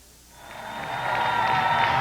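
Crowd applauding at a bowling event at the Tri-Cities Coliseum, clapping swelling from quiet to a steady, moderately loud wash over two seconds.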